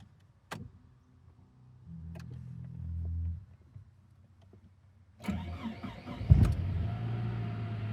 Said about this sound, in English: Let's start it up. Let's see how it sounds when you're running an idle here.